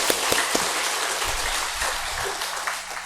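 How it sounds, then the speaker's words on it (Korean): Congregation in a church service clapping together, a dense sustained patter of many hands with a few sharper claps early on, filling the room for a few seconds. "우리 이 시간 한 번 더 하나님께 영광의 박수를 돌렸으면 좋겠습니다"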